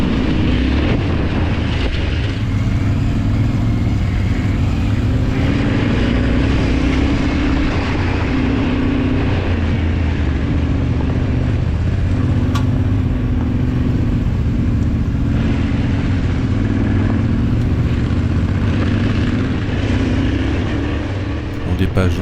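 Motorcycle ridden over a bumpy dirt track in the Alps with small jumps, a loud continuous engine drone with rising and falling revs and rumbling wind noise throughout, close to the rider.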